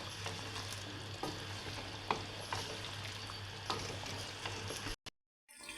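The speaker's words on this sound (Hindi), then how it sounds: "वो आपने शामिल करके आपने 5 से 6 मिनट के लिए इसको हल्की आंच पे इसको हिलाते रहना" Chicken korma with almond and poppy seed paste being stirred on low heat: a steady soft sizzle under the spoon, which scrapes the pot several times before the sound cuts out near the end.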